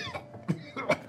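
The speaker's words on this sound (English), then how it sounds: "he begins coughing and spitting water up" A man suddenly waking from sleep coughs and sputters up water in a few harsh, wet bursts spread across a second, fairly close and moderately loud.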